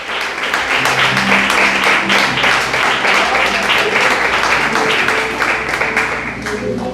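A church congregation applauds during an evening worship service, steady dense clapping filling the whole stretch with a faint tonal hum or music underneath and some voices mixed in.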